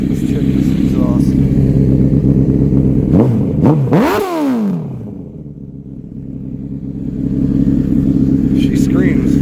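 A 2004 Honda CBR1000RR Fireblade sport motorcycle idles loudly up close and then blips its exhaust hard. One rev climbs sharply, falls back and dips briefly into a quieter lull before the steady idle rumble returns.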